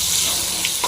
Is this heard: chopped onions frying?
yes